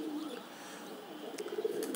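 Pigeons cooing on a rooftop, a soft continuous murmur of coos close by, with a few brief clicks and rustles near the end.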